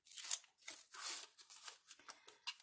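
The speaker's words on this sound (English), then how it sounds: "Now we can pull the tape off the top." Tape being pulled off paper on a homemade paper storage file, a series of close, crackly peeling and tearing bursts of varying length with brief pauses between them, no voices.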